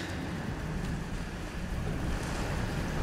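Water rushes in aboard a North Sea oil rig in Still Wakes the Deep, a steady broadband roar and wash that stays constant at moderate loudness throughout, with no talk.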